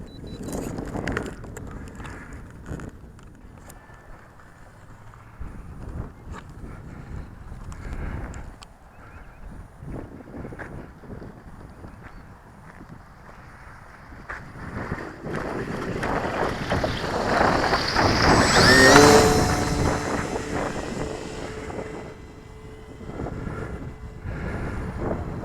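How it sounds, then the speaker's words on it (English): Breezy outdoor wind buffets the microphone in gusts, rising to a loud peak near the twenty-second mark where a small electric RC autogyro motor whines briefly, then easing back. "It's a little breezy today."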